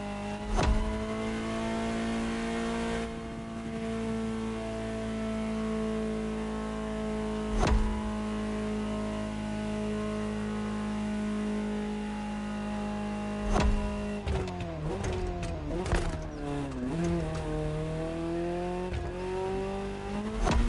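A Ferrari GTO's engine drones steadily in The Crew Motorfest driving game, holding a constant tone before revving and shifting through rising and falling pitches near the end, with brief sharp clicks at intervals.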